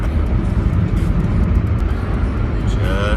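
A car drives along a concrete road, giving a steady, close rumble of engine and tyre noise that holds even from start to finish.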